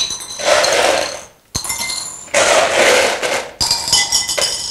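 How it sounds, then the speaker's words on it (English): M&Ms pouring and clattering into bowls in bright, glassy bursts, a few seconds of rattling rain, a short pause, then more rapid clinking. "the sound of the M&Ms hitting the bowls really put me off"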